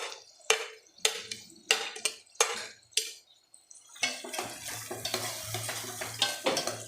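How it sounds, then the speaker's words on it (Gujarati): Sautéed onions are stirred into a pan of Indian-style white sauce pasta, a spoon scraping and tapping in a run of sharp strokes, followed by denser continuous stirring with a soft sizzle underneath. "હવે સાંતળેલી ડુંગળી એડ કરી દઈશું ભેગી."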